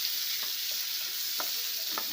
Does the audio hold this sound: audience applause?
no